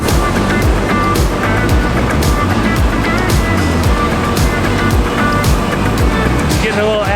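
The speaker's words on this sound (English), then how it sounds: "Oh, they're redoing the road." Roadwork on a Philadelphia street being resurfaced with asphalt, a loud, continuous broadband roar of heavy machinery and traffic with rhythmic rumbling pulses, close and steady throughout.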